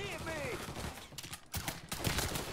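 Gunfire in the video game Mafia 3, a burst of several shots in the second half, mixed with game sounds and voices.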